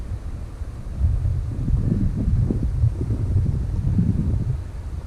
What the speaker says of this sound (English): It's getting pretty windy here on the back property